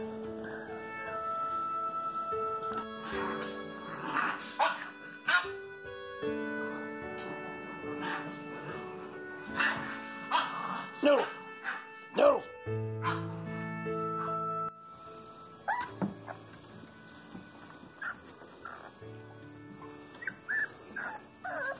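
Young Rottweiler puppies play-fighting nearby, with rapid yips, small barks and whimpers in irregular bursts over background music.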